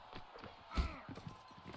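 In the game Mount & Blade: Warband, a horse's hooves clip-clop in a steady, rhythmic gait, fairly close, with one heavier thud midway.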